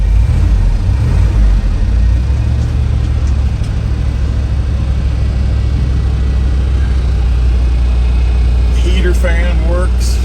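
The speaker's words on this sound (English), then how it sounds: "We're going to start up 85 Dodge." A 1985 Dodge W350 truck engine idles steadily with a low, continuous rumble throughout, loud and close, with a brief rising whine near the end.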